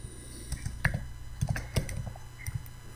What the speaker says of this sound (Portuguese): Eu vou digitar aqui yum